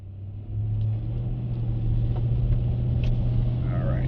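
A truck engine with a strange revving fault idles with a steady low drone, a rougher onset in the first half second, then an even, close running hum throughout.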